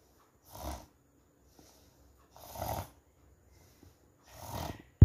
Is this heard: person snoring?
yes